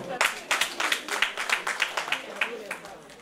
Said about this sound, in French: Donc applaudissez pour vous-même.